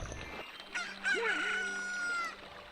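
A newly hatched chick in Ocarina of Time crows with a loud, rising cock-a-doodle-doo in a single sustained call, with a brief clucking lead-in before it.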